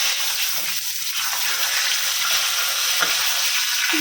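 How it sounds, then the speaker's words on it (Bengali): Fish sizzles steadily in a pan of hot oil in a home kitchen. The frying hiss is close and continuous, with no talk. "মাছ ভাজা হচ্ছে"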